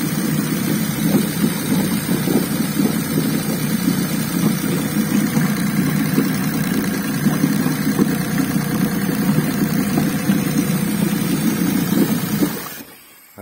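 A Tohatsu 30 EFI outboard motor runs steadily at idle near water in cold weather, a continuous mid-low engine drone holding even for about twelve seconds before cutting off abruptly; no talking.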